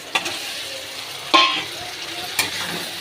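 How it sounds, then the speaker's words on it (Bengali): Meat dropped into hot oil and stirred in a pan: three sharp bursts of sizzle and spatula scraping over a steady frying hiss, close and fairly loud. "আমি মাংসগুলো দিয়ে দেবো,"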